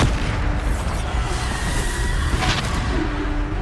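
Blasting Bombardo spell explosion in the video game Hogwarts Legacy, a dense, loud rumbling boom with crackling debris sustained throughout, mixed with busy combat effects.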